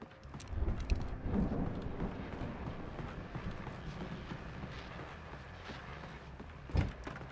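Thunderstorm in the video game Alan Wake: a dense, steady roar of rain and wind with low rumbling swells, one near the start and a sharper loud burst near the end, no voices.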